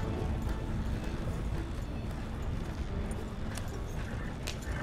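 Horses pull a wagon along a road in Red Dead Redemption 2, their hooves clip-clopping steadily beneath a loud, constant rumble of wheels and movement.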